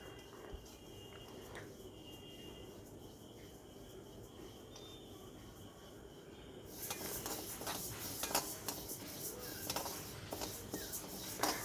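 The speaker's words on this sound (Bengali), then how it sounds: "ডালটা ভাজা হচ্ছে হোক" Lentils (dal) frying and being stirred in a pan in a village kitchen, a quiet scraping hum that swells into a louder, steady sizzle with clinks of the utensil against the pan in the second half.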